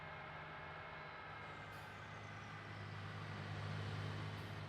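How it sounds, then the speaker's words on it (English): Engine drone from a vehicle in Farming Simulator 19, a low steady rumble that stays constant and fairly quiet throughout with no talk. "I still don't approve of the car sounds"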